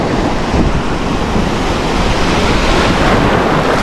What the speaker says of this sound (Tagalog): malalaki yung alon niya yan guys